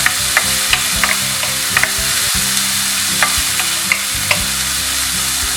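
Chopped tomatoes sautéing in a pan for a potato bonda filling give a steady, close frying sizzle, broken by regular light clicks and scrapes of a spatula stirring. No one speaks.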